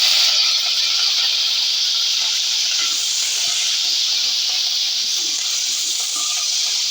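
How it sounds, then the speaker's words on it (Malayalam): Curry leaves sizzle in hot coconut oil with mustard seeds for a jackfruit seed curry, a loud, steady hiss of frying close by with faint crackles running under it, alone without talk. "ഇതായി കരിവേപ്പില ഇട്ട് കൊടുക്കാം."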